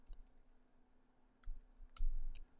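A few sparse clicks of typing on a computer keyboard, close but quiet, a handful of separate keystrokes over a low steady hum.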